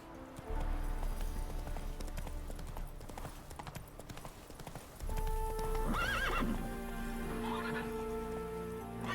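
Hooves pound in a steady galloping clip-clop as a horse runs in The Witcher 3: Wild Hunt, with a brief neigh partway through and soft rain-like patter in the background.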